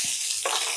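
Mustard seeds, cumin, onion and chili frying in a pan give a steady close sizzle, with a soft low bump at the start and a brighter surge of crackling about halfway through.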